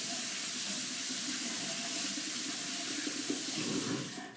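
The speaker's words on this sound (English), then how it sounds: "I'm gonna wash my hands." Hands being washed under a running kitchen tap, a steady, loud rush of water hissing into the sink for several seconds before it cuts off at the end.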